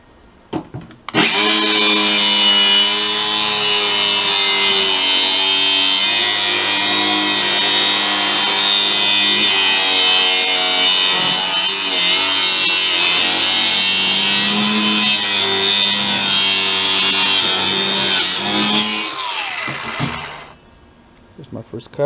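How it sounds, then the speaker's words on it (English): A power tool saws through the seam of a truck tailgate for roughly eighteen seconds, a loud, continuous grinding rasp with slight wavering pitch, starting abruptly and winding down at the end. "I'm just gonna go ahead and cut it right along this seam on both sides"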